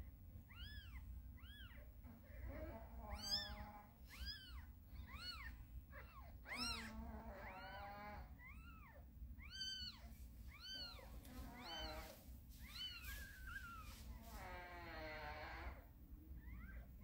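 A cat giving birth to kittens meows repeatedly, close and steady, in a run of rising and falling cries over a low background rumble.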